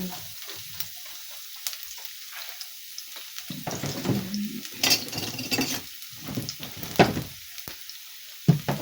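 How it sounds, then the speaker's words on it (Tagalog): Garlic sizzles and crackles in cooking oil in a pan, close by, with intermittent scraping and stirring sounds from a wooden utensil. "naglagay na ako ng mantika. Oh, ihulog ko na ang garlic"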